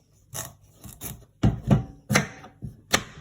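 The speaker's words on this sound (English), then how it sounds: "I'm going to be cutting it up so that I can boil it and make some pumpkin drink" A knife chops through a firm raw pumpkin destined for boiling into a drink, giving a series of close, distinct cuts with crisp thuds and scraping rasps, about eight strokes in an uneven rhythm with no talking.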